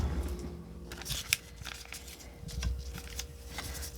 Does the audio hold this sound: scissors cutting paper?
yes